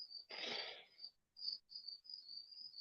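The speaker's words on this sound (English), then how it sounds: "Actual crickets." Crickets chirp in a steady high-pitched trill, fairly loud and close, continuing alone after a brief burst of broadband rustle near the start.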